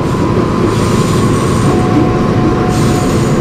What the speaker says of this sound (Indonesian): Ini masuk di jalur 2 KRL Komuter Line Jogja Solo.